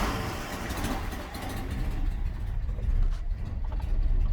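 A Datsun car engine runs steadily after the key is turned, a close, continuous mid-pitched engine hum that rises slightly toward the end.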